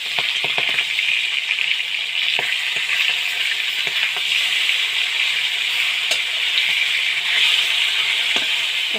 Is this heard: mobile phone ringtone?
no